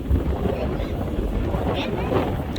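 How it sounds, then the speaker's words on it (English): Gusts of wind buffet the microphone in Shenandoah National Park with a low, constant rumble, and a voice speaks faintly underneath. "I'm sorry about that sound. It's just really windy."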